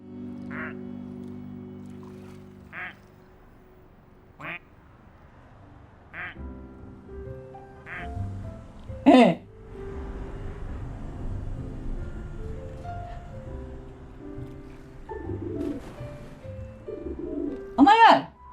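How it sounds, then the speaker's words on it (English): Mallard duck quacks from a duck-collecting video game repeat in short bursts every second or two, with cooing bird calls, over a background of continuous talking. "The mallard actually sounds like a real bird instead of just a fake duck."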